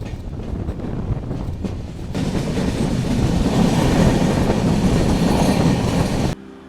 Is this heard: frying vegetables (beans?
no